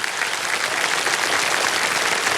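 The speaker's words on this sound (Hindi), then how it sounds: "तालियां बज जाए इनके लिए।" Studio audience of the Indian TV quiz show Kaun Banega Crorepati bursting into applause: a loud, dense, continuous wash of many hands clapping close up, with no speech over it.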